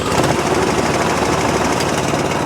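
A petrol Allett cylinder mower with a Kawasaki engine runs steadily close by, its engine and spinning cylinder making a continuous, loud clattering drone with no pauses.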